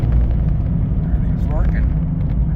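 A 1998 Jeep Cherokee XJ engine picks up speed as cruise control resumes after a cable replacement, a steady low drone and road rumble heard from inside the cab while a voice talks over it.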